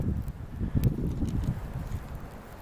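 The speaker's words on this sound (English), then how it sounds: "The wind's coming in now. It's really blowing my fire." Gusty wind buffets an outdoor test fire burning strings, heard as a broad, rough low rumble of wind on the microphone that swells and eases, with faint crackling ticks and no talking.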